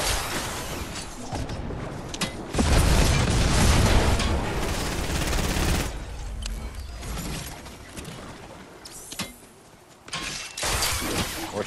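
Dense gunfire in a Fortnite Zero Build squads match, with heavy bursts of shots and booming impacts that rumble on for several seconds before easing, then picking up again near the end.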